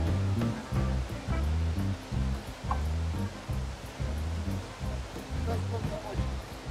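Tap water runs over heads of garlic being rinsed for Tashkent plov, splashing in uneven, pulsing gushes as a voice talks over it.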